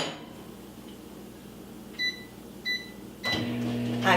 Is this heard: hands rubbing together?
no